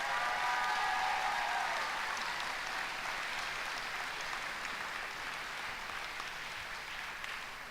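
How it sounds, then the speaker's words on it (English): Sustained audience applause for graduates at a winter commencement ceremony, a dense wash of many hands clapping that fills the hall steadily and fades slightly toward the end. "please join me in a final round of applause for our certificate graduates and all of our graduates today."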